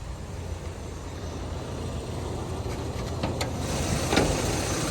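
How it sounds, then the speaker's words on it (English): A 1987 Toyota one-ton pickup with a fuel-injected four-cylinder engine idles steadily, its low exhaust rumble even and quiet. A few brief faint clicks sound near the end. "Runs nice and clean out the exhaust there. Nice and quiet."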